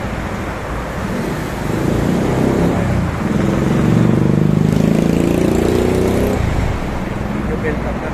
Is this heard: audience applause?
no